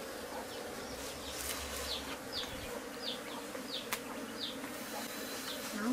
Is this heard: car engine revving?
no